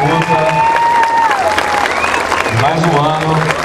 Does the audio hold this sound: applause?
yes